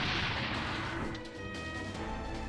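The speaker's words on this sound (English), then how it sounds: "Holy cow, that's one heck of an explosion." A loud, sustained explosion rumbles from the Super Robot Wars V video game, starting at full force and slowly fading into a lingering roar with a ringing tail.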